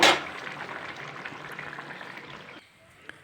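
A broccoli curry with potatoes and peas sizzles over a high gas flame, a steady close frying hiss that starts with a loud burst and thins out toward the end.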